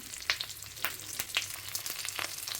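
Leaf-wrapped fish set on an oiled griddle crackles and spits, with sharp bright pops and bursts of sizzle at an irregular pace over a low steady hiss.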